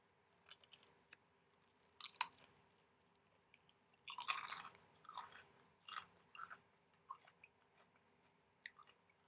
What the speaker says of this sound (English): It's all crunchy.